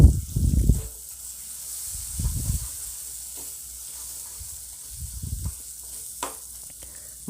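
Tomato masala with cashew paste stirred in a hot pan, bursts of scraping and sizzling at intervals over a steady frying hiss, close and fairly loud.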